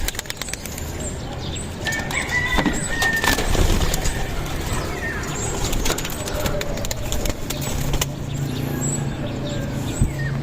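Racing pigeons burst out of a loft's opened release door, wings flapping in a rush of takeoff with scattered coos and chirps, outdoor background noise and a car faintly behind.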